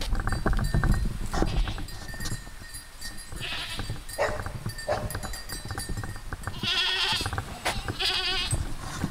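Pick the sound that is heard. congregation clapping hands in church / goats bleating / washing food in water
goats bleating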